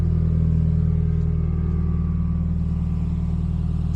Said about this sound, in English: It really opens up the turbo spooling noises and the exhaust